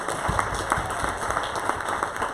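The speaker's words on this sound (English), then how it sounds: "Can we have a big round of applause if you liked it?" Audience applause at a Hindu temple health event, a steady patter of clapping hands from a modest crowd, fairly faint and continuous for a couple of seconds.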